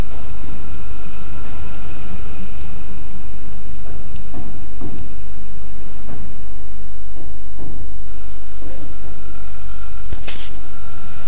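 Rain falls on a forest mountain road between Lumajang and Malang near Ranupani, Bromo. A loud, constant wash is mixed with vehicle rumble and scattered drip-like taps, and no one speaks.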